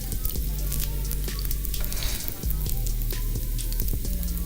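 Southwestern chicken egg rolls fry in hot oil in a pan, giving a steady close sizzle with soft crackling pops and a few brief clinks and scrapes as they are turned.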